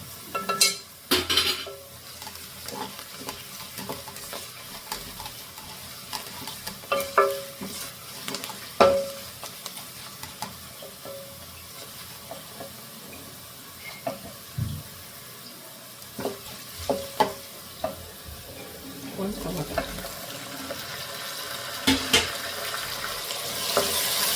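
A tempering of hing and turmeric sizzles in a pan for a bisi bele bath. A steady low hiss runs throughout, broken by intermittent spoon scrapes and clinks, heard up close with no voices.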